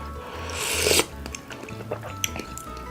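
A close, loud slurp of spicy Angry Neoguri noodle soup broth builds for about a second, then stops, leaving faint clinks and small mouth sounds.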